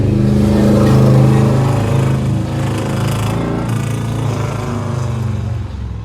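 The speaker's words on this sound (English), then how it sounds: "Okay, car passing by in a second." A motorcycle passes on a road, its engine a loud, steady rumble that swells close by and then eases slightly as it moves on.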